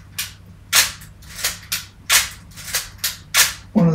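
A Nikon F3 professional film camera fires its shutter repeatedly, six crisp mechanical clacks at a steady pace, close and clear with no talk.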